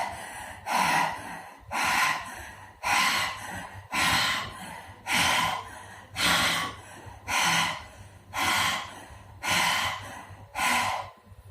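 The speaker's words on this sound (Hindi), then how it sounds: "सांस को पूरा अंदर लेना है, गले को रब करते हुए पूरा सांस को बाहर निकालना है" Forceful yogic breathing with the tongue out, the throat rubbed on each exhale: about ten loud, rhythmic breathy gasps evenly spaced roughly a second apart, each a rough, hissing push of air close to the listener, with no talking.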